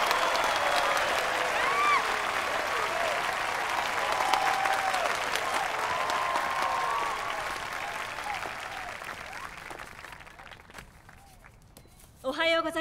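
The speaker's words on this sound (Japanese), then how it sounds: "盛大な拍手を" Graduation ceremony audience applauding the valedictorian, a broad sustained clapping crowd with cheers that gradually fades, followed by a voice speaking close up at the end.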